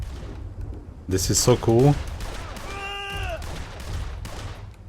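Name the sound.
gunshots at a shooting range in a video game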